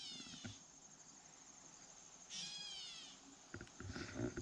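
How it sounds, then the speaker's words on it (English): A catbird calls outdoors on an overcast mid-afternoon, giving a few short, wavering cat-like mews, the clearest around the middle, over a faint background hiss with some light rustling. "They sound so much like a cat, it's incredible."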